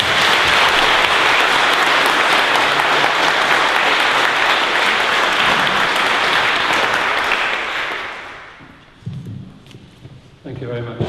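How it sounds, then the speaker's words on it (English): Loud, sustained applause from a large crowd fills most of the clip, then fades out and a few soft thumps and a voice follow. "I'd like to give a big round of applause"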